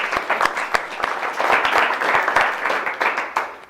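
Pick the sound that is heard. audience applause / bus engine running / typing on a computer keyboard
audience applause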